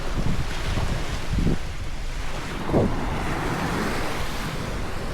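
Wind blows on an island in Medellin, rumbling across the microphone in steady gusts, with surf-like washes and a few louder low bursts, no speech.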